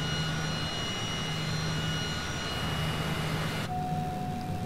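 A Cessna Citation CJ4 business jet in Microsoft Flight Simulator gives off a steady, even engine whine and broad rushing hum, continuous and moderately loud, with a sustained tone shift near the end and no voices.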